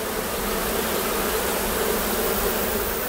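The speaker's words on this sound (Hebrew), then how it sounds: "פה זה הכוורת, תראה כמה, פה יש הרבה דבורים לעומת בארגז העליון" Honeybees at an open beehive make a dense, continuous buzz. The sound is loud and close, steady throughout, with no voices.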